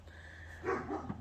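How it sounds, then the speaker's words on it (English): A single short, muffled dog bark sounds faintly from somewhere nearby over a low steady hum, followed by a softer yip. "And that's my dog barking at me because he doesn't know I'm here."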